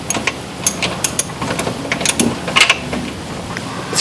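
A socket ratchet works a shock absorber bolt loose on a 1996 Chevrolet Blazer, giving a series of quick metallic clicks and taps that come in irregular bursts, close by and moderately loud.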